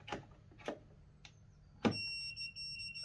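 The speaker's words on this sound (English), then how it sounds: "I've gone on reverse polarity here on the proving unit so you can hear it beeping" A few faint clicks, then an electronic voltage proving unit, set on reverse polarity, emits a steady high-pitched beep that continues to the end.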